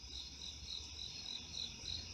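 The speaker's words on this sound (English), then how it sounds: "all the sounds of the night, like the crickets" Crickets chirp steadily at night outside a train station in Staunton, Virginia, a faint, continuous pulsing trill repeating about twice a second over low background rumble, with no voices.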